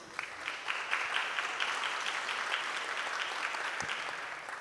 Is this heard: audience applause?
yes